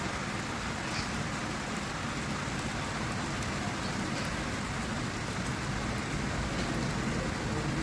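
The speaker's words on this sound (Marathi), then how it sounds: "आवाज येतोय पावसाचा" Rain falls steadily on a wet road with an even, soft hiss that never pauses and carries no voices.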